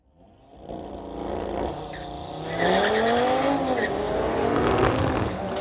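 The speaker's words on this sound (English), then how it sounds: "As a pair of Audis rocket away" A pair of Audi RS3s launch hard down a drag strip at a street-legal race night, engines climbing loudly and roaring steadily as they pull away, with no talk over them.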